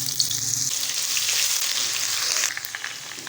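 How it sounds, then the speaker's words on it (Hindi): Ginger garlic paste frying in hot oil with whole spices, including black cardamom, gives a steady bright sizzle with crackles. A lower bubbling drops out early and the hiss eases near the end, with no voices over it. "अदरक लहसुन का पेस्ट थोड़ा सा फ्राई करने के बाद"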